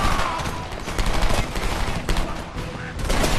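Rapid gunfire while shooting enemies in a video game: dense, overlapping bursts of shots rattle continuously, loud and close, with a voice speaking faintly underneath.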